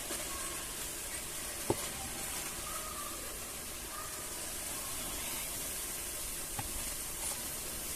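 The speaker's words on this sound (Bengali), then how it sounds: "মশলাটা আমার কষানো হয়ে গেছে। এবার দিয়ে দিচ্ছি আমি বাঁধাকপিটা।" Cabbage tossed into fried spices in a pan, giving a steady, soft hiss of sizzling with a couple of faint clinks, fairly quiet and unbroken.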